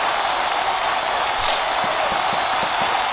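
Loud, steady roar of a wrestling crowd at a championship scramble match as a submission armbar is locked in, a dense continuous wash of cheering and noise with faint claps throughout.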